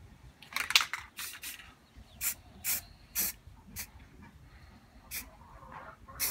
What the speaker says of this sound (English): Got my spray paint here